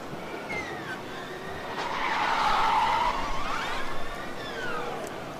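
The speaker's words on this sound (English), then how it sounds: "And doing a couple of power slides" A DHBW Stuttgart driverless race car power-slides on a test track at a Formula Student driverless autocross, tires squealing loudly and steadily for several seconds while the engine note rises and falls.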